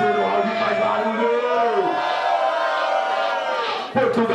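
A rap battle crowd cheers and shouts together in a loud sustained roar, with voices rising and falling before a brief drop and a fresh burst at the end.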